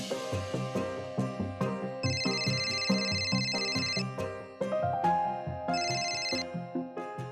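A phone ringtone plays a repeating melodic tune with bright chiming notes, steady and fairly loud throughout, in a scene from a Marathi TV serial.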